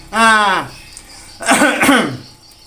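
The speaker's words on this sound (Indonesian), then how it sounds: "Batuk saudara-saudaraku ya" Two loud, close coughs, the first a single harsh bark and the second a rougher double cough after a short pause.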